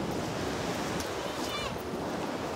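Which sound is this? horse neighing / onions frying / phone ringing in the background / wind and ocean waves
wind and ocean waves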